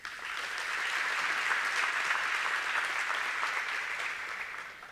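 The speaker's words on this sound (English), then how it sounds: "Let's give them an applause again." Steady, even applause from an audience at an awards ceremony, swelling in quickly and holding at a moderate level before tapering off at the close.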